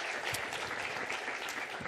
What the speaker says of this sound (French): On peut là aussi l'applaudir pour l'encourager.